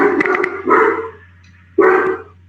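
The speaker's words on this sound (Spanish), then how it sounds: "Y mi perro empezó a ladrar." A pet dog barks in a few sharp bursts nearby, a quick cluster of yaps followed after a pause by another loud bark, over a steady low hum indoors.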